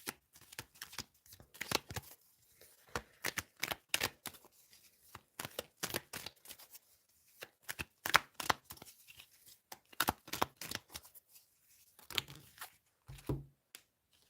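Tarot cards being shuffled by hand in repeated quick riffling bursts, close and fairly quiet, with brief pauses between bursts and no talking.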